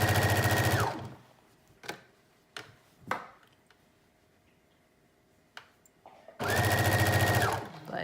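A cheap Walmart sewing machine of around a hundred dollars runs in two loud steady bursts at the start and end, with quiet clicks and handling taps in the gap between.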